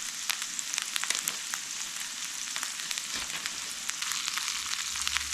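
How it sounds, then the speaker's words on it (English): Food sizzles steadily in a frying pan during home cooking, a dense continuous crackle with scattered sharp pops, close and fairly loud throughout with no talk. "I'm just going to kind of let this sizzle for a little bit"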